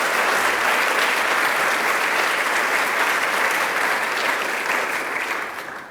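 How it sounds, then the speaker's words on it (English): A crowd at a New York governor's announcement claps loudly and steadily for several seconds, the dense applause tapering off at the very end. "let's give them a round of applause"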